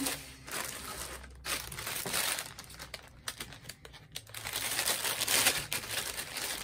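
Paper and plastic of a parcel crinkle and rustle up close in irregular bursts, with occasional snipping of scissors and tearing as the packaging is pulled open.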